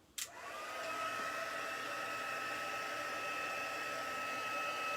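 A heat tool clicks on and blows with a steady, continuous whirring hum while heating card stock, holding a constant level throughout.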